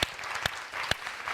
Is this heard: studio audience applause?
yes